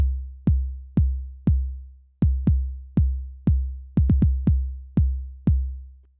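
Sequenced electronic kick drum pattern with an added 16th note, deep booming thumps in a steady repeating rhythm with a quick doubled hit and a cluster of fast kicks, loud and alone.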